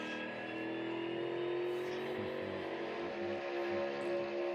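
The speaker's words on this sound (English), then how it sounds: "you hear him going through the gears right there" NASCAR Cup race car at Talladega Superspeedway droning through its gears, a steady roaring engine note at moderate distance with shifting pitch under crowd and track ambience.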